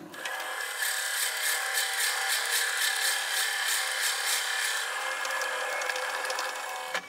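A 22mm Morse taper drill bit held in a lathe tailstock bores into a spinning wooden birdhouse blank, giving a steady high whirring grind that holds evenly and then eases off near the end.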